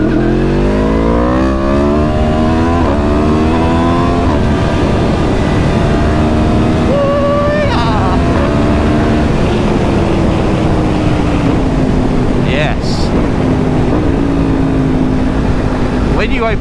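A Yamaha MT-10 motorcycle engine revs loudly and steadily, its pitch climbing and falling through repeated throttle blips, heard close and continuous throughout.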